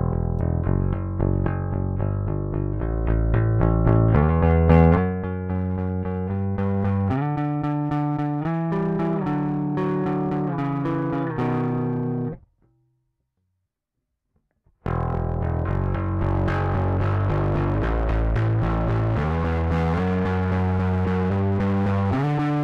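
Bass guitar played through a KarDiaN CHCl3 distortion pedal, sustained fuzzy riffs with the gain setting changing, loud and continuous with a brief silent gap in the middle.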